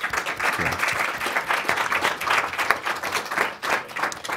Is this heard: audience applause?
yes